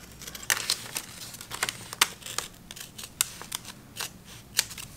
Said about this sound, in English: I have to cut the graphic in half.